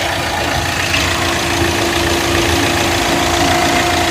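A Hyundai i20 diesel engine idling close by, a steady low rumble with a faint rhythmic knock and a constant hum, unbroken and alone with no talking.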